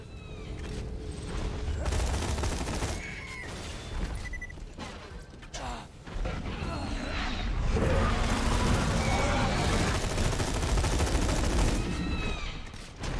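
Automatic gunfire rattles in repeated bursts in the Borderlands 2 video game, mixed with game effects, creature cries and explosions, loud and close throughout with short gaps between volleys.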